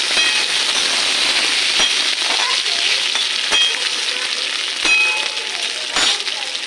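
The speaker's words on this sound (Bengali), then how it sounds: "পেঁয়াজটা আমার ভাজা হয়ে গেছে" Onion and tomato sizzle and fry in a hot pan for mutton curry, a constant crackling hiss broken by a few sharp pops and clicks.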